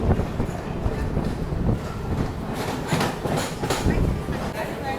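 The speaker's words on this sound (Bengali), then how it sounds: "গুয়াহাটি সুপারফাস্ট আমাদের এখন ক্রস করলো অত্যাধিক স্পিডে" The Guwahati Superfast rushes past at high speed, heard from a nearby train as a steady, loud rumble with rapid wheel clatter and bursts of wind noise.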